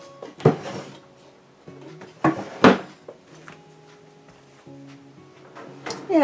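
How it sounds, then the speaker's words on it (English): Baked apple hand pies come out of a home kitchen oven amid clattering trays, knocks and the thud of an oven door or cupboard, several loud bangs spread over quieter handling noise. "Let me get these out of the oven."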